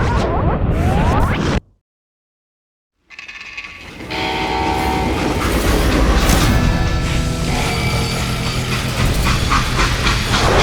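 A freight train from the Western game Call of Juarez: Gunslinger rumbles loudly, cuts to silence for about a second and a half, then returns as a sustained roar with horn-like tones, squealing metal and clattering wheels.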